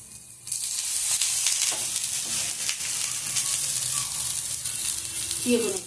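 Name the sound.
ragi adai sizzling in oil on pan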